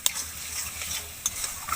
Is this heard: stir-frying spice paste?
yes